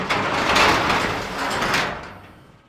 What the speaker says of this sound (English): we're going to shut the door again